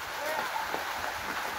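Steady rain falls outdoors at an event setup with a buffet table, a continuous even patter and hiss filling the space without distinct drops standing out.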